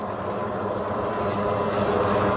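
Junior J2 and J3 class racing powerboats tear across a lake on the main straight, a steady broadband engine roar and water rush holding close and loud throughout.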